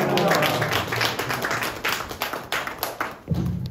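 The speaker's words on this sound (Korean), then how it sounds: "나오실 때 할렐루야 박수로 모시겠습니다." A church congregation at a Korean men's worship service claps together to welcome the pastor to the pulpit, a close, brisk burst of applause that tapers off before a voice comes back in.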